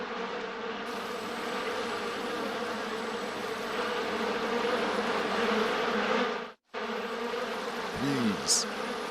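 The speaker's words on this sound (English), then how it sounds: "Bees. Why did it have to be bees?" A dense, steady buzzing of a swarm of many bees in an animated cartoon fills the air, loud and close, with a brief dropout and a few faint squeaks near the end.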